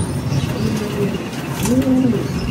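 Pigeons at the entrance hole of a loft give soft, low coos, with a few rising calls and a brief flutter of wings, heard fairly close with no voices.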